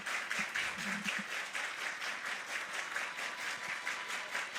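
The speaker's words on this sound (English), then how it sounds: "Crowd getting into it." Steady crowd applause and clapping fill the stands at a college softball game between Ole Miss and Mississippi State, a continuous even wash of hands with no pauses.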